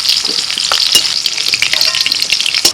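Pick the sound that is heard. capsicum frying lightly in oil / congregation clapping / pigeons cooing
capsicum frying lightly in oil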